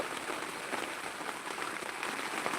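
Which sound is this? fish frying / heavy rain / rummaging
heavy rain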